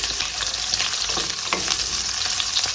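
Onion sautéing in a pan for a vegetable sauté, a constant close sizzle with crackles and light stirring scrapes, no voices.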